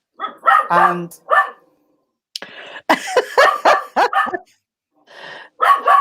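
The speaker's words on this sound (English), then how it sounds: "he's barking his head off at Michael for some reason." A dog barks loudly in several sharp bursts, pausing briefly between volleys, close by and with no talking.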